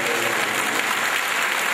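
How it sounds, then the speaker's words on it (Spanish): Steady, dense applause from a congregation at a church gathering, loud and continuous throughout with no breaks. "¿por qué no lo hace usted con un aplauso?"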